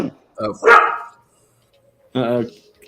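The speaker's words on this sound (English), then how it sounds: "Dog's going nuts." A dog barks excitedly in a few sharp, close, loud yelps with a short gap between bursts, no talk over it.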